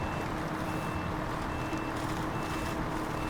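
A truck in SnowRunner backs up on Big Salmon Peak, its reversing alarm beeping steadily over a rumbling engine, close and continuous with no voices.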